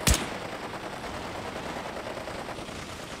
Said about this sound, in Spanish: hay artilleros con armas antiaéreas, si os fijáis,